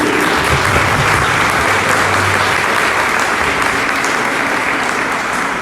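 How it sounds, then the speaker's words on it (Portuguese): Sustained, dense audience applause at a live lecture on women's emotional health, steady and loud throughout with a crowd clapping all together, no speech over it. "Palmas para a Daniela, gente."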